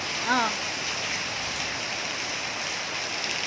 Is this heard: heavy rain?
yes